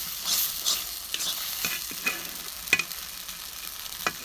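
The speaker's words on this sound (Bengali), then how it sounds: "মশলা দিয়ে ভেজে প্রথমে একটু তেল দিয়ে ভেজে নিলাম" Spice paste fries and is stirred in oil for a loitta fish bharta, a soft sizzling hiss broken by repeated scraping strokes of a spatula against the pan, close and moderate in level, with no voices.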